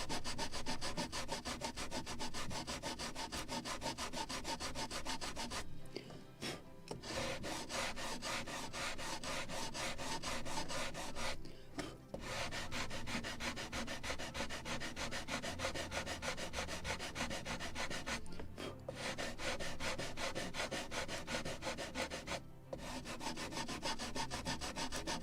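Sandpaper, 400 grit, rubs steadily along a seam on a wooden model hull of the 1776 gunboat Philadelphia, a close, continuous scratchy sanding with a few brief pauses between strokes and no talking.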